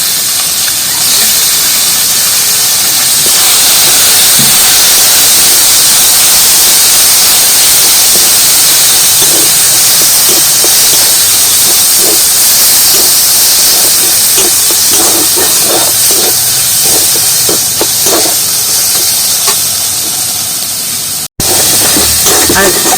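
Boiled, deboned Bombay duck (lote fish) added to hot oil mixed with spices and stir-fried for fish chops, giving a loud, steady sizzling hiss that runs unbroken from start to finish with no talk.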